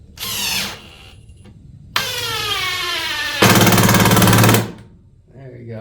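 A DeWalt DCF845 impact driver drives a lag screw in loud, sustained bursts of whirring and hammering that rise and fall in pitch, with short pauses between runs.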